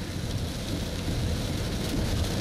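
Steady, loud rain drums on a car during a wet-weather drive, making a dense, continuous hiss with low rumbling underneath and no speech.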